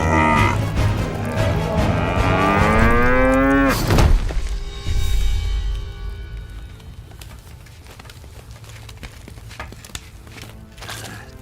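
A loud cow moos with long rising harmonic calls for several seconds, then fades into quieter low rumbling background.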